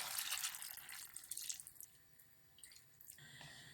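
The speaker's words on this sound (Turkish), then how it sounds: "kaynatmış olduğum kemik suyunu, et suyunu döküyorum" Boiled bone broth poured into beans in a pot gives a steady splashing stream that thins out toward the end, close and fairly quiet, with no talking.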